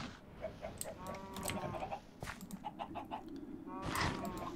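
Chickens in Minecraft cluck in short, repeated bursts over a low farm-machinery hum, with a louder, more crowded run of clucks near the end.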